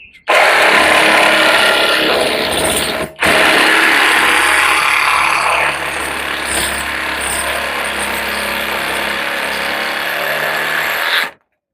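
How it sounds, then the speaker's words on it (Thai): A Masaru reciprocating saw cuts through hardwood with a fine-tooth blade: a loud, steady high-speed buzz close by, with a short break around three seconds before the cut resumes and runs on until it stops. "เดี๋ยวลองตัดกับใบ ฟันละเอียดดูนะครับตัดไม้แข็งๆนี่เลยนะครับ"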